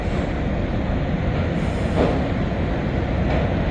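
Canadian National freight locomotives and cars roll northbound past at close range, a dense, steady roar of wheels and rumble that holds constant throughout with faint metallic squeal.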